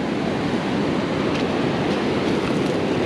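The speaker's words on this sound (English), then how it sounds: "And there comes the water." Ocean surf washes up the sand at Huntington Beach, California, producing a continuous broadband rushing hiss that stays loud and steady with no talk over it.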